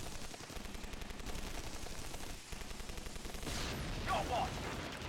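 Continuous gunfire from defense towers in the video game Anomaly: Warzone Earth, a dense rattling barrage that swells near the end, with talk mixed in.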